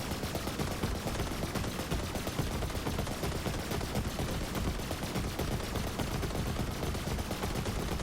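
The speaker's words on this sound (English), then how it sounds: "I'm going to shoot these both at his head and see which takes longer to have to reload." Flipper and Plasma Coil guns firing in Borderlands 3: dense, rapid, continuous gunfire at full loudness throughout, shots blurring into a relentless stream with no pause.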